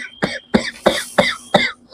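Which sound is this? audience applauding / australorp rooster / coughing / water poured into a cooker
coughing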